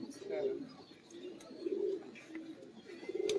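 A seal pigeon coos in soft, repeated rolling phrases, close but faint, with a murmur of voices in the background.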